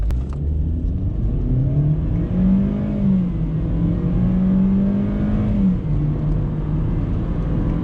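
A 2017 Opel Corsa 1.4 automatic accelerates at full throttle from a stop on a slight uphill, the steady engine drone rising through shifts, heard from inside the cabin with no talking.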